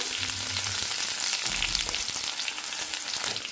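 Garlic and onion sizzle in hot oil with popping mustard seeds and curry leaves, a close, steady frying hiss with a brief low clunk partway through and no talking.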